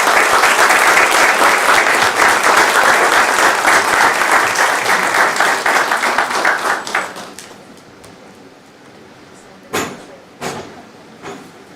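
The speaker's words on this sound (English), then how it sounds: "Let's give them a round of applause." Loud, sustained applause from a council chamber audience for newly sworn-in officials, dense clapping that fades after about seven seconds, followed by a few isolated thumps and knocks in a quieter room.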